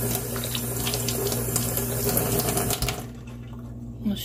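Tap water runs steadily over an acrylic stamp block being rinsed in a sink, a close, continuous splashing rush that cuts off near the end, leaving quieter drips.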